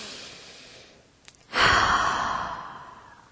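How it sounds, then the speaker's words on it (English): A single deep breath let out in one long, loud exhale during a guided breathing exercise, with a short intake before it and a slow fade afterward, heard alone without speech. "take a deep breath."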